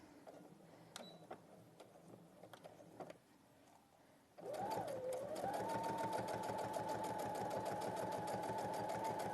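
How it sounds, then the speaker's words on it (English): A sewing machine stitching close to a fabric edge, starting after a few seconds of quiet handling and then running steadily with a fast, even mechanical clatter, close and fairly faint. "so I'm just sewing along the edge, very close to the edge"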